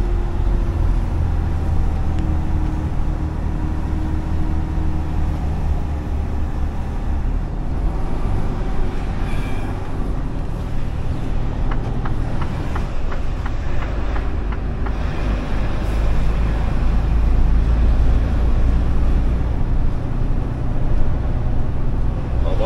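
An unloaded truck drives through the village of Urbès, its engine a steady, loud low rumble with continuous road noise throughout and faint talk underneath.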